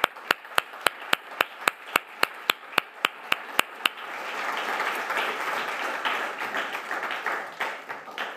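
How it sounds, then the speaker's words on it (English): An audience applauds the winner at the ArtTech Prize ceremony. A run of sharp, evenly spaced clicks comes first, then a dense wash of crowd clapping fills the second half, with no talking over it. "Welcome on stage for a well-deserved applause."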